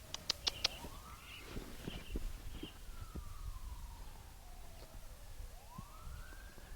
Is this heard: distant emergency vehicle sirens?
yes